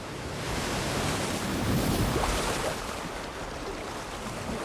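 Sea waves wash in a steady, broad roar of surf during a scene from the film Saving Private Ryan, with a slight swell in the middle and no voices.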